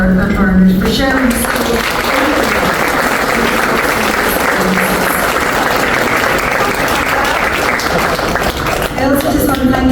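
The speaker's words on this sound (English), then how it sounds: "Can we just give one last incredible round of applause to Brian" A lunch audience at a chamber of commerce event gives a loud, sustained round of applause lasting several seconds, with a speaker's voice heard briefly before and after the clapping.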